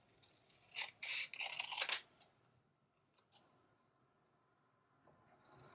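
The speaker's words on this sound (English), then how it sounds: "Okay, let's cut around this." Scissors snip through paper while a flower card is cut out, giving a few crisp bursts of close cutting and then a short lone snip after a pause.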